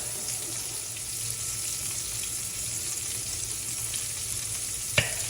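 Ground turkey and sausage meatballs fry in a pan with a steady, close hissing sizzle throughout, broken by a single sharp clink near the end, no talking.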